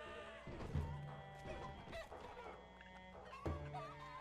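Cartoonish chicken clucks from chickens being shot out in Totally Accurate Battle Simulator pop up over busy game sounds and music, a couple of louder squawks standing out.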